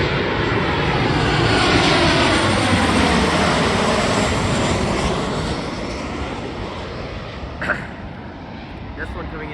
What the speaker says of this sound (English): 737-700.